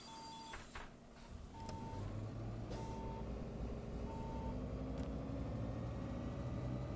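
Irisbus Citelis 12M city bus on route 219 in Prague in a simulation game: repeated warning beeps and a door hiss as the doors close, then a steady engine drone rising as the bus pulls away.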